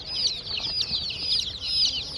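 Many young chicks cheeping and peeping together in a busy, continuous high-pitched chorus, close by.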